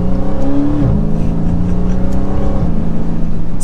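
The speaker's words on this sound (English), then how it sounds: "that rumble from the Hemi" Hemi V8 engine of a Dodge Charger SRT Hellcat Widebody rumbles loudly up close, a deep steady idle burble with a brief rev swell near the start and another shift in tone toward the end.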